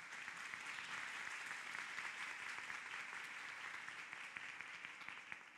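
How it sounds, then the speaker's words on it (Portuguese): An audience at a Brazilian nursing congress gives sustained applause, an even, thick patter of many hands heard from a slight distance. "Uma salva de palmas, por favor."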